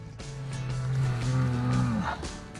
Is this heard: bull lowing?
yes